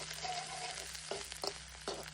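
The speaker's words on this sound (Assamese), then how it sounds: "এইখিনি ধুনীয়াকৈ অকণমান ভাজি ল'ম" Ginger, garlic and green chillies fry gently in a pan, making a faint, steady sizzle with a few soft stirring scrapes over a low electrical hum.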